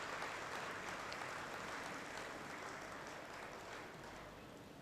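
An audience at a Tamil patti mandram debate event for Kamban Thirunal claps to welcome the judge to the stage, a sustained, even applause that fills the hall and fades slightly toward the end.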